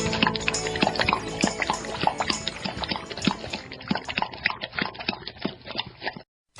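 A playful water sound effect for a pet radio show's break: rapid dripping and lapping splashes in an uneven patter, fairly close, ending abruptly.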